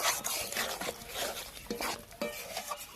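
Coriander leaves being stirred into begomothi chicken in a pan, with repeated scraping and clinking of a utensil against the pan over a soft sizzle, close and steady.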